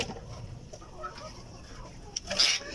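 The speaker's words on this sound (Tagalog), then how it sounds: "ito naman po yung hen. Isa po siyang Black Brahma." A Black Brahma hen in a backyard flock clucks softly and intermittently, close by, with a brief louder cluck near the end over quiet background noise.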